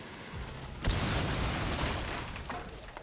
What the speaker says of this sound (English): Thermite is about to use his gadget to blow the wall directly outside of Jim.